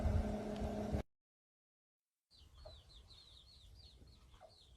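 Small chicken on a hot rod farm, with soft clucks and a few chirpy calls close by over low rumbling background noise after a short silent gap.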